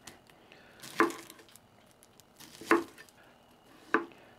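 An onion being chopped on a cutting board for griddle teriyaki chicken and broccoli, three separate sharp knife chops spaced about a second or more apart, close and crisp over quiet room tone.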